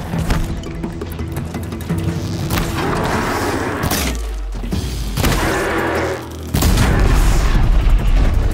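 In Horizon Zero Dawn, a robot machine blows up in a series of loud booms and crackling bursts. Debris rumbles between the blasts, and a final heavy explosion closes the sequence. No one speaks over it.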